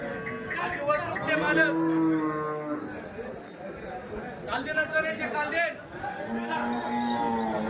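A top-quality HF cow moos at the Dhule cattle market, giving several long, loud, drawn-out calls amid the chatter of a crowd and people talking nearby.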